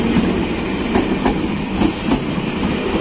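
An ex-Tokyo 8618-set KRL commuter electric train passes close by, a loud steady rumble with rhythmic clickety-clack of wheels over rail joints and no voices.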